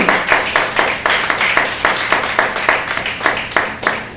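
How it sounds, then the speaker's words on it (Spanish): Church congregation claps for the Lord during a Spanish-language service, a strong, rhythmic unison beat of claps at a steady pulse, loud and close throughout. "Un fuerte aplauso al Señor, hermano."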